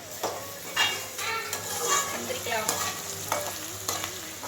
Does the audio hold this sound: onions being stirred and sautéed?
yes